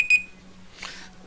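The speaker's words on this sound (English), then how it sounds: "Oh, there goes my timer." A timer alarm gives a short, sharp electronic beep at the start, followed by a faint low hum and a soft rustle, with no talk.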